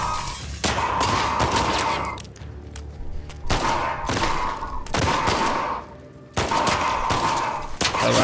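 Pistol gunfire in The Last of Us Part II, several loud bursts of sharp shots in clusters separated by brief quieter gaps, close and dense without any talk.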